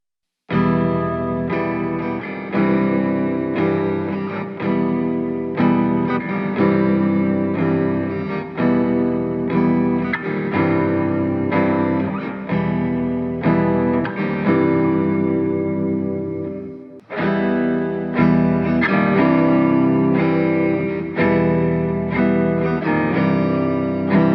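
Electric guitar through an EHX Pitch Fork pitch-shifting pedal, strummed chords with a metallic, doubled tone, ringing out in bursts and then resuming after a brief pause.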